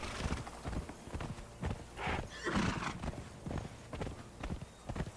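Hoofbeats of a galloping horse in a video game, with a neigh partway through, steady clip-clop rhythm fairly close and loud over busy game sound.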